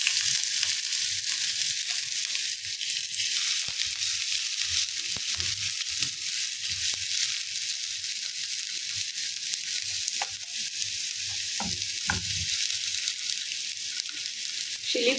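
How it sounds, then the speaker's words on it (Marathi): Chopped ginger and garlic sizzle in about two tablespoons of hot oil for chicken spring rolls, a steady crackling fry with occasional sharp pops and faint stirring clicks throughout. "तेल तापलेलं आहे, त्यामध्ये आपण चॉप जिंजर गार्लिक टाकून घेऊया."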